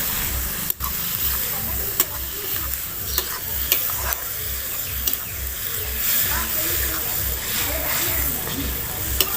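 Vegetables frying in a pan while being stirred, steady sizzling under rhythmic scraping and clinking of a spoon against the pan, close and continuous, with occasional sharper knocks.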